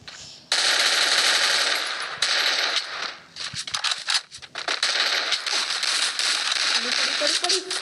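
Sustained automatic gunfire from the mobile game Free Fire, loud rapid bursts filling most of the stretch with brief breaks, while a player talks over it.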